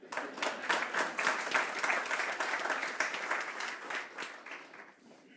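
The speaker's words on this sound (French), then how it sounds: "vous pouvez vous applaudir." A church congregation breaks into dense, steady applause of many hands, which holds at full strength for several seconds before thinning out at the end.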